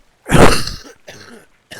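A character in the video game Alan Wake II gives a short, harsh cough or throat-clear, followed by a softer second burst and the start of a third, close and alone.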